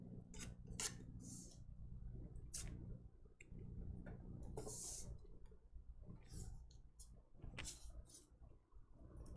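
A knife trims excess modeling chocolate from a cake in a run of short, crisp cuts and scrapes, close and fairly quiet, with faint low room hum underneath.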